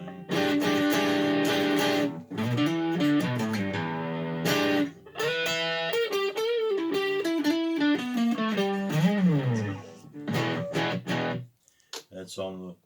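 An electric guitar on its neck pickup, with no reverb or delay, plays melodic phrases with a warm, rounded, slightly overdriven tone, pausing briefly between runs.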